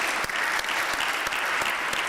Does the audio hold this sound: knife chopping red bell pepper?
no